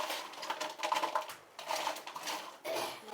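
Sun-dried pumpkin vadiyalu pieces rattle and clatter together in dry, crisp bursts, a close, light tumbling noise that comes in several short waves.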